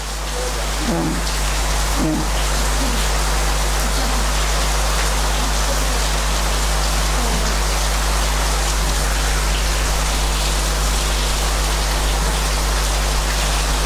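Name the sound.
rain falling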